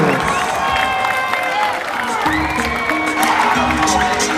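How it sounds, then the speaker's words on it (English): Fans at an MMA event cheer and applaud after a technical knockout win, a loud, steady crowd roar with clapping that carries on under music and commentary. "a lot of fans here cheering him on"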